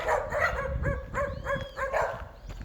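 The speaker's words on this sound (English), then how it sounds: "Let's see, 7 dogs, 7 little dogs." A group of several little dogs barking in a residential neighborhood, sharp repeated yaps and bow-wows overlapping in quick bursts, fairly close and loud, with a few whiny yips mixed in.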